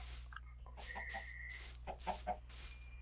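A chicken clucks in short bursts over steady background hum while exploring in Minecraft with the Wyrmroost mod, with a few brief sharp clicks scattered among the clucks.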